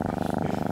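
A house cat purring steadily, a close continuous low rumble with quick even pulses, heard alone.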